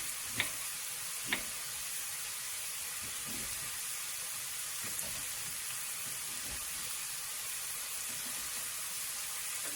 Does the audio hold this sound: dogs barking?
no